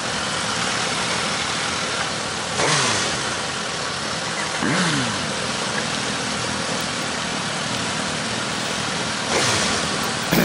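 A Suzuki GSX-S1000F motorcycle engine rumbles steadily at idle, with a few short throttle blips rising and falling in pitch.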